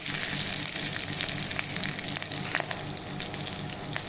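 Curry leaves and asafoetida splutter in hot oil for tomato rasam, making a bright, constant sizzle with scattered crackling pops, close and steady throughout.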